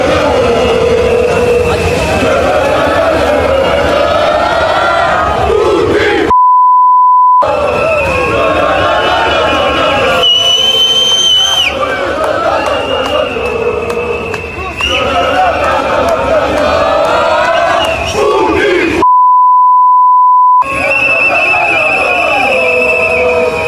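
A large protest crowd in Georgia chants slogans in loud, rhythmic unison, the massed voices rising and falling in repeated phrases, with two short beeped gaps interrupting the chanting.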